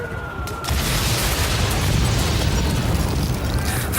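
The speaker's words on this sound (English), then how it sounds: "More shells came down." Artillery shells explode in a First World War trench battle setting: a loud, sudden boom after a brief quiet moment, then a sustained rumbling roar of bombardment that lasts to the end.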